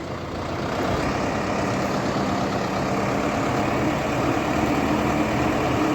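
A heavy diesel engine of a SOLIS 105 tractor runs steadily nearby with a low, constant rumble and no voices.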